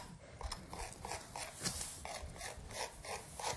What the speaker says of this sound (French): avec un couteau, on va venir gratter très légèrement